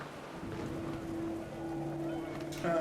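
Rain falls in the video game What Remains of Edith Finch as a steady, soft patter and hiss, with a faint low hum beneath and a brief slight rise near the end.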